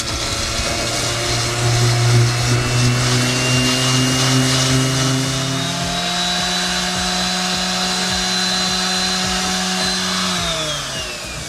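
A power sander works over structural fill on a boat while fitting a Lofrans Tigres windlass, giving a steady loud whine with shifting tones that drops in pitch partway through, continuous and unaccompanied by speech.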